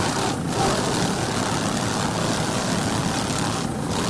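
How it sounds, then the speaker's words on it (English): A 40-foot Fountain race boat with twin 800 hp Stotler racing inboards and MerCruiser drives roars past at an offshore race in Key West, a loud continuous engine drone with no voices. "Firewater V21, a 40-foot fountain powered by two 800 horsepower Stotler racing inboards with Merc Cruiser drives."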